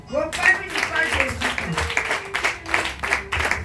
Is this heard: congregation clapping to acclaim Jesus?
yes